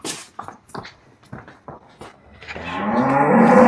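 A deep, drawn-out moo from a pregnant water buffalo swells up loud and close after a series of soft thumps and shuffling sounds.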